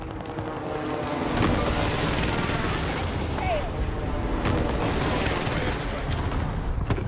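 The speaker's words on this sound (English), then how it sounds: "Who's he shooting at?" Video game gunfire: dense bursts of automatic weapon fire and shots rattling continuously, loud and close, with rumbling booms mixed in, under occasional talk.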